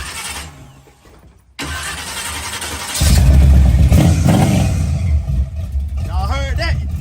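An LS3 V8 car engine cranks, catches, and revs loudly nearby, rising to a rough, throaty roar with voices shouting over it.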